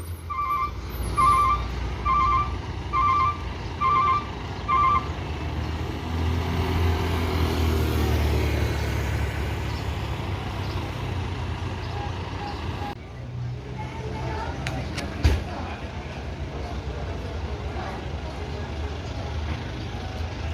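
Buses rumbling into Barisolo bus terminal, a deep idling engine drone with a series of reversing beeps early on, then a hiss like an air brake and a sharp knock; people speak faintly underneath.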